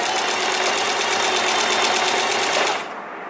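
A portable sewing machine stitching with a walking foot fitted, a fast steady mechanical chatter running close and even for about three seconds before cutting off abruptly.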